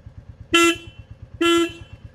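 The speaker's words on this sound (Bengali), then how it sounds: "হর্নটা শুনে মনে হচ্ছে একটি প্লাস্টিকের মোটরসাইকেল সেই গাড়ির হর্ন বাজছে" A weak Minda horn fitted to a Royal Enfield motorcycle honks twice, each a short thin buzzing toot about a second apart, loud and close over a faint idling engine pulse.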